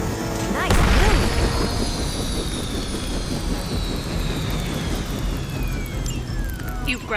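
A helicopter crashes to the ground during a battle in the video game Marvel's Midnight Suns, with a loud impact followed by a sustained roaring engine whine that slowly drops in pitch over several seconds.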